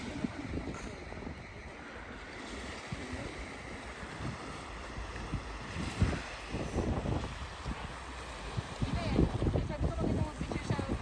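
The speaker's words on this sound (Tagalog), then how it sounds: "ganyan kalakas yung hangin" Strong gusty wind by a lake in Alberta in spring buffeting the microphone in a steady roar, rising in bursts, with people talking underneath.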